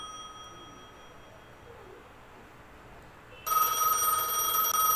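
In the video game Gas Station Simulator, a telephone bell starts ringing partway through, loud and steady. Before it there is only a low hum.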